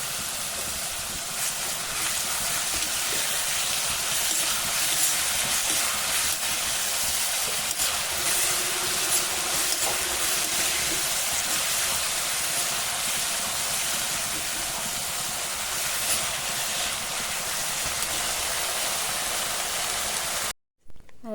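Onions and green chillies sauté with salt in a pan, giving off a steady close sizzle and crackle that runs on without pause before cutting out briefly near the end. No one speaks over it.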